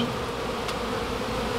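Bees swarm around a beehive being saved from ants and termites, a dense, steady buzz that fills the air close by with no voices over it.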